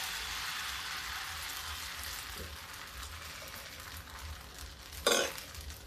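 Urad and rice dosa batter sizzling steadily on a hot pan, a soft continuous frying hiss with a brief louder scrape near the end, close and alone without talk.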